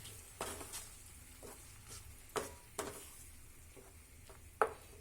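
Tomato puree made from two tomatoes fries quietly in a pan with a faint sizzle, broken by a few sharp clicks and scrapes of a spoon stirring against the pan.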